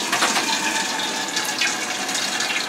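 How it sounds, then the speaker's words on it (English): Hot whey poured back from a pot for straining cheese, a steady splashing liquid stream running without pause and close by. "I'll take what looks to be this water and I'm going to pour it back"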